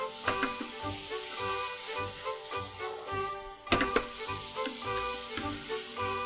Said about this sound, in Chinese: 加下来之后呢，我们就把它拌炒均匀哈